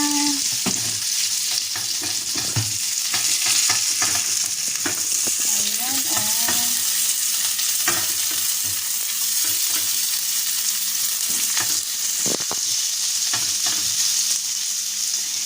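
Garlic and onion frying in a pan give a steady, close sizzle throughout, broken by scattered scrapes and clicks of stirring, with no talking.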